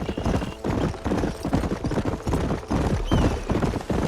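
A horse gallops in Red Dead Redemption, its hooves drumming in a fast, steady rhythm close by and loud, with faint whinnies and rattling gear mixed in.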